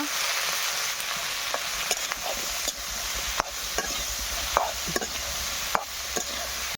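Taro stolons with turmeric powder are stirred in a hot frying pan, a steady sizzle broken by regular scraping strokes and light clinks of the spoon against the pan.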